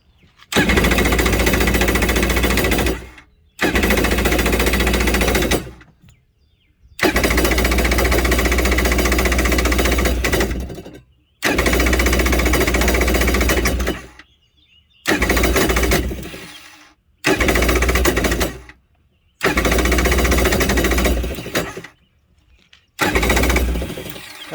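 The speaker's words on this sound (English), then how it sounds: "So that's the starter bendix not coming out and hitting that flywheel" A jet ski's starter whirs and grinds in long loud bursts as the bendix fails to engage the flywheel, the harsh buzzing repeating with short silent gaps between cranking attempts.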